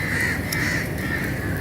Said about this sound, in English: the crows are making a lot of noise